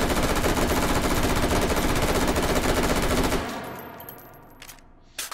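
A gun fitted with a big magazine in Hot Dogs Horseshoes & Hand Grenades fires a loud, unbroken automatic burst for over three seconds. The burst cuts off abruptly, leaving a fading tail and a few faint clicks.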